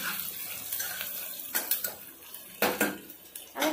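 Sliced onions fry in a pan over a medium-low flame for mutton curry, a soft steady sizzle broken by several sharp clinks and scrapes of a utensil stirring against the pan.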